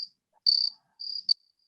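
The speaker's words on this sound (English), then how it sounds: "Crickets." Crickets chirp in short trilling bursts, three or four clear pulses against near silence, used as a comic pause.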